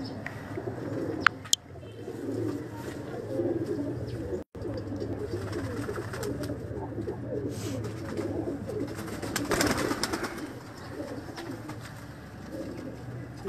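Pigeons coo steadily nearby in a loft, soft repeated throaty calls with occasional wing flutters and clicks continuing throughout, with no voices.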